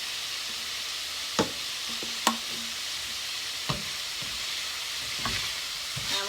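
Food with red pepper flakes sizzles steadily in a skillet, a soft constant frying hiss broken by a few sharp clinks and scrapes from stirring.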